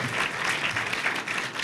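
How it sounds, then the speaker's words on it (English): Steady applause from an audience at a business talk on aerospace, dense and continuous clapping that stays fairly loud throughout, with faint voices mixed into the crowd. "Give him a round of applause, please"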